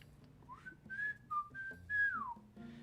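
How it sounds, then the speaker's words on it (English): A person whistles alone, quiet and close, in a few short gliding notes that rise and fall across the whole stretch. "You want to hear my loud whistle?"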